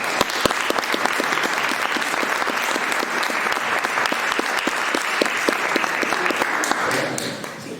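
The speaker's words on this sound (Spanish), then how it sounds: "comenzamos dándole este aplauso de bienvenida" An audience in a town-hall lecture setting claps a warm welcome, sustained and even, with crisp individual claps standing out from the steady roar before it tapers off at the end.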